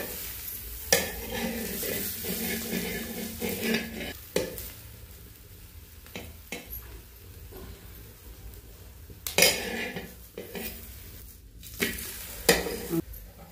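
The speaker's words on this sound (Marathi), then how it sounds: "ते धपाटा अलगद असं प्लास्टिक पेपर काढून घ्यायचे आणि ते तव्यावर टाकून" A pumpkin dhapate flatbread cooks with oil on a hot griddle, making a steady gentle sizzle broken by several scraping and clinking utensil knocks when it is flipped.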